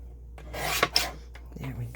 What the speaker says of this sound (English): So I am going to just trim the edge of this.